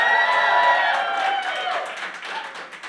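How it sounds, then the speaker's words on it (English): Audience at a discussion of election issues including ranked choice voting cheers and claps together, a loud burst of applause and whoops at the start that gradually thins out over about three seconds, with mixed voices in the crowd. "Who is pro, you can just like cheer, clap."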